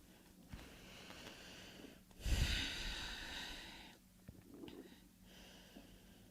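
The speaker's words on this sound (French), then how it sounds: "on va prendre 4-5 respirations dans cette inclinaison" Deep, slow breaths during a Pilates class held in a position, with a strong audible exhale and airy breathing sounds over a soft room background, no talk.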